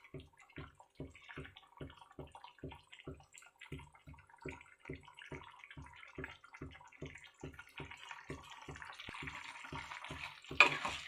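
Chicken curry in a pot is stirred with a steady, rhythmic scraping and wet squelching, about two strokes per second, quiet and close, ending with a brief louder clatter.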